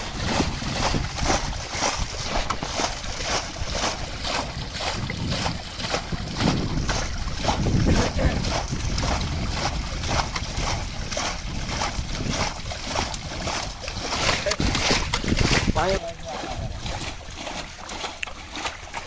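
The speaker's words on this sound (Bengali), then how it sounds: "নৌকা সেচের কাজ চলমান" Water being bailed by hand out of a raised sunken wooden fishing boat on the Gorai River, steady rhythmic splashing and sloshing repeating throughout, with outdoor wind noise.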